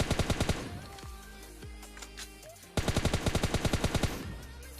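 Rapid automatic gunfire from an M249 in a mobile battle royale game rattles in fast, loud bursts, with a quieter gap of scattered shots between two sustained volleys.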